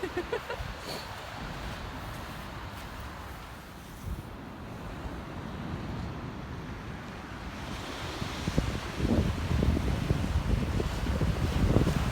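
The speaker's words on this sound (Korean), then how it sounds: "야 파도 야" Surf washes in steadily along Gangmun beach in Gangneung, a continuous ocean roar that swells louder toward the end, with wind buffeting the microphone throughout.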